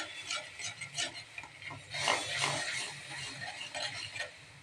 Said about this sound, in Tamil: நம்ம ரைஸ் போட்டு நல்லா கிளறி எடுத்துடலாம்.